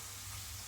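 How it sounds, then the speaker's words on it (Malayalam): Potato chips fry in hot oil, giving off a soft, steady sizzling hiss with no distinct pops. "പൊട്ടാറ്റോ ചിപ്സ് ഉണ്ടാക്കി കിലകിലാന്ന് കേൾക്കുന്നുണ്ട്"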